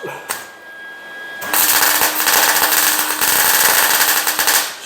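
Plug welding on a truck frame, fitting 1978 Ford gas tank cross members into a 2011 Super Duty: a loud, steady crackling arc with rapid stuttering pops that begins after a short quieter lead-in and runs continuously close by.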